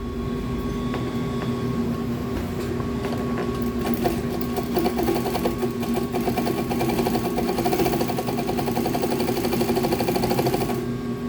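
A sewing machine stitching leather runs steadily and loudly for the whole stretch, its rapid needle rhythm constant with no pauses and no talking.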